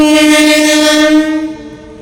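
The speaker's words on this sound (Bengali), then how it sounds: "আর যে ট্রেন ঢুকছে" A loud, sustained train horn blares with steady harmonic tones, fading slightly toward the end as the train rolls into a station; no talking.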